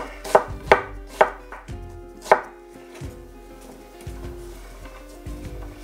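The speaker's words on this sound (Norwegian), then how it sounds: "Skrå, skrå og skjær. La kniven jobbe." A knife chops vegetables for taco soup on a cutting board, giving a quick run of sharp, close knocks at first and then a few slower, spaced cuts.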